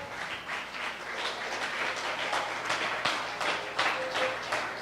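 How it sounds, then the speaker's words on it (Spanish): A church congregation applauding together after a sermon, a sustained wash of many hands clapping at middle distance, fairly steady with slight swells and no voices over it. "¿Cuántos le dan un aplauso a Dios?"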